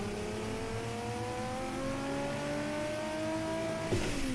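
A car engine revs in a driving video game, its pitch climbing steadily and loudly for about four seconds before a sudden drop near the end, like a gear change.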